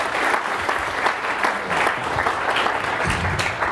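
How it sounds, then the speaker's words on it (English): A conference audience claps for a presenter at an Open Group event, producing several seconds of full, lively applause with dense overlapping hand claps and a faint murmur of crowd underneath. "Round of applause for Mark, please."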